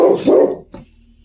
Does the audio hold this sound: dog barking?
yes